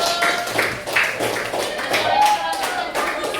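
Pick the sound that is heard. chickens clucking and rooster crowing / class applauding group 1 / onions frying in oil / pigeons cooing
class applauding group 1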